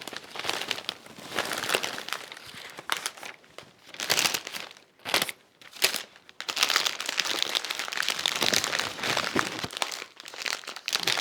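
Stiff wrapping paper crinkles and rustles in bursts while being gathered and pulled tight around a bouquet made of folded money, with busy crackly handling, brief pauses, and no talk.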